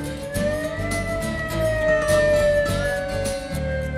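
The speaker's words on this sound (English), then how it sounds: "The whale tone represents a siren test." A loud outdoor warning siren test in Talladega sounds continuously, its pitch slowly rising and falling in a drawn-out whale-like tone over a rumbling background.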